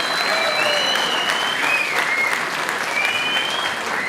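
Audience applauding in a packed theatre during a political campaign meeting, steady dense clapping sustained throughout with no speech over it.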